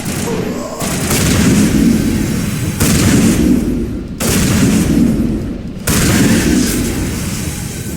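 Heavy shotgun blasts in the sci-fi shooter Mass Effect, four loud booming shots spaced about a second or more apart, each with a long rumbling tail.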